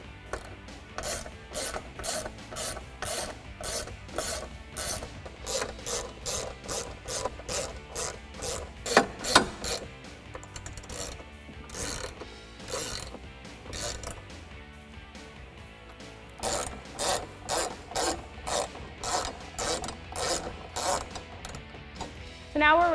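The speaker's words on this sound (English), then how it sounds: "we can tighten all of them down with a T30 Torx bit" Ratchet clicking in repeated bursts as a T30 Torx bit tightens the bolts of a Mopar table onto the studs of a 2018 Jeep Wrangler JL tailgate, close and fairly loud, with short pauses between runs of clicks.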